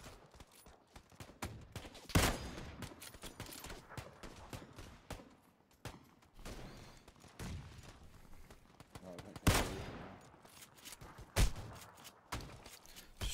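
Gunfire in PlayerUnknown's Battlegrounds on a big map with buildings and open space, sharp loud shots and bursts scattered across the clip, some single and some in quick runs, over a background of in-game movement and rustle.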